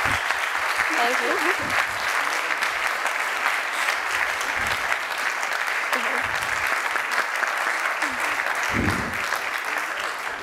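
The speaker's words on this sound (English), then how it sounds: "Did you hear the applause?" Sustained audience applause fills the room, dense and steady throughout, with a few voices briefly audible beneath it.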